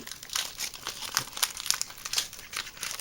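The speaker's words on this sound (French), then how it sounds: "Donc là, tu ouvrir 36 boosters, quand même." Pokémon XY Evolutions booster pack wrappers crinkle and crackle in quick, uneven bursts of close, soft foil rustling with no one talking.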